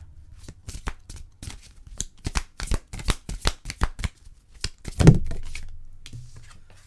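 Tarot cards shuffled in quick riffling bursts, crisp flicks repeating close up, then a single louder slap as a card is laid down.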